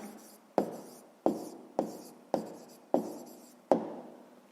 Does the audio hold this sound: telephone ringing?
no